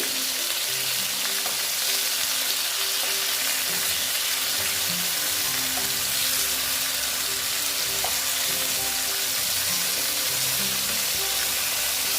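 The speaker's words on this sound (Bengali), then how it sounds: "আমি এই মাছ আমি ভেজে নিচ্ছি ঠিক আছে আস্তে আস্তে ভাজা হচ্ছে" Katla fish pieces frying slowly in a pan, a steady close sizzle with soft crackles and faint stirring that goes on throughout with no talk.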